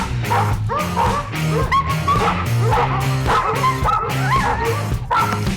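Alabai guard dog barking during protection training, loud close repeated barks and yips in a rapid rhythm, with whimpering tones between them.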